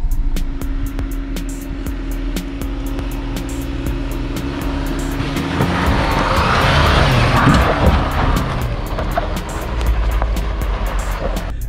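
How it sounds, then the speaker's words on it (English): A 2019 Jeep Cherokee Trailhawk in locked 4x4 mode with the rear locker engaged crawls off-road, its engine droning steadily and swelling louder midway as the tires churn and scrabble over rough ground, with no talk. "in locked mode, with that rear locker on, it goes through pretty much anything"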